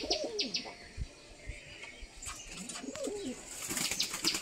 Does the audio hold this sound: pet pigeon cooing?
yes